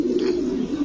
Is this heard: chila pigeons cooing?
yes